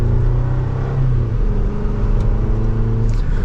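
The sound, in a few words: 2024 Chevrolet Colorado Trail Boss accelerating in second gear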